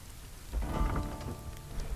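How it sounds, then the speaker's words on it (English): Rain falling in a medieval survival video game, a steady wash of drops on surfaces that swells slightly midway, heard alone without voices. "I thought this fire would go out in the rain, but it doesn't seem to be."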